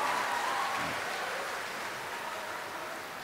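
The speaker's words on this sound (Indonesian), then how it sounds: "Mari tepuk tangan yang kencang" A graduation-ceremony audience at Universitas Sumatera Utara applauds standing cum laude graduates from the Faculty of Forestry: a dense, steady wash of clapping that fills the hall and slowly eases in level.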